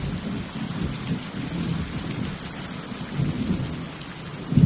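Steady heavy rain pours down with rolling thunder rumbling through it, a dense continuous wash of noise that swells a few times and ends with a louder burst; no voices.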